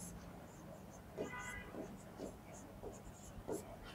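A marker or chalk scratches out a heading on a classroom board during a biology lecture, producing several short, faint strokes in an uneven rhythm against a quiet room.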